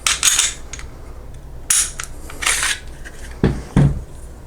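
A new Smith & Wesson M&P 2.0 Compact pistol is field-stripped by hand: a scattered series of sharp metallic clicks, scrapes and slide rattles, close and fairly loud, separated by short pauses.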